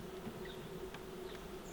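Bees at a wild hive drone in a dense, steady buzz close by, with a few individual insects sweeping past through the continuous hum.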